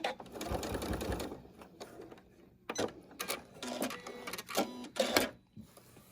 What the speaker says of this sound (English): Gonna stop and sew off the end at an angle